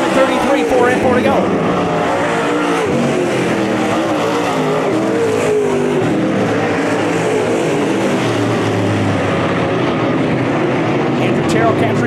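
Late model race cars roar around Merritt Speedway in a heat race, a steady loud wash of engines throughout with a race announcer talking over the noise.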